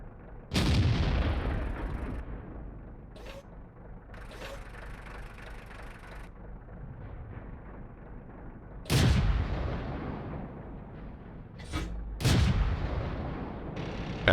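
Tank cannon fire in World of Tanks from a T49, with several loud booming shots spaced seconds apart, each followed by a ringing decay and mechanical reload clatter, with no voices.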